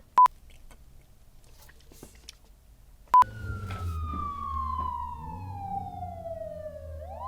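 A street siren outside wails in one long, steadily falling tone over a low traffic rumble. Two short sharp beeps come before it, and no one speaks.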